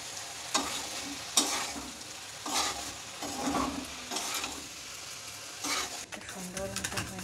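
Potato slices fry in a pan while being stirred, a steady close sizzle broken by repeated scraping and clattering strokes of a spatula against the pan.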